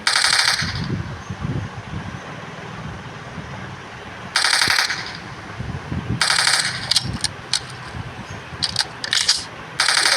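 Gunfire from the mobile shooting game Local Warfare comes in loud rapid bursts of automatic fire, a burst at the start and several more near the end, with quieter game ambience between them.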